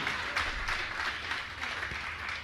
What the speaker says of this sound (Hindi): जोरदार ताली बजाएं इनके लिए।